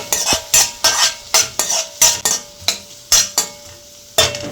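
Onions and thinly sliced carrot frying in oil for street-style egg fried rice, with regular scraping strokes of a metal spatula against the pan over a steady background sizzle, close and fairly loud.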